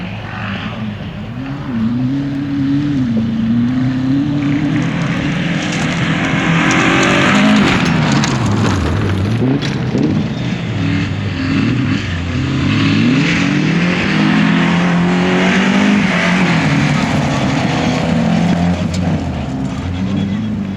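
Peugeot 205 rally car at a 2005 rally, its engine loud and close, revving and changing pitch repeatedly as it drives past under steady roaring noise.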